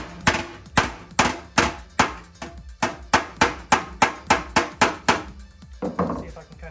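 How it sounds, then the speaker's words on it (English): Hammer striking a Triumph Spitfire body panel held off a dolly, about fifteen sharp metallic taps in a fairly even rhythm, close and loud, with no voice over them. "we're gonna try to do some hammer off dolly to see if I can get rid of this high spot here"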